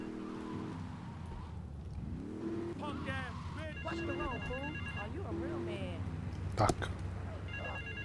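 A telephone rings in GTA III amid car engine noise and game sounds, with someone speaking briefly over it.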